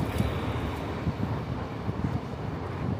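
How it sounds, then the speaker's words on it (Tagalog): Wind gusts buffet the microphone in a soft, continuous low rumble, fairly quiet and with no one speaking. "mahangin lang dito."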